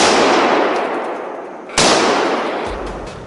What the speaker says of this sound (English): rapid gunshots echoed